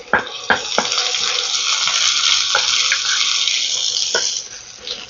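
Chopped onion dropped into hot tempered oil for a snack recipe, giving a loud continuous sizzle with a few sharp clicks of a spoon against the pan.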